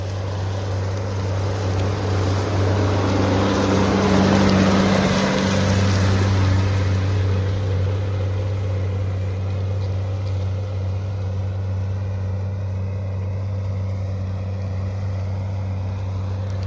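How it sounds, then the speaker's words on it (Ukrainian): A Nigolan 70-60 tractor engine drones steadily with a low, constant hum, slightly louder early on, as it pulls a Bednar XO6000F disc harrow across a sunflower field, without any talking. "Трактор Ніголан 70-60"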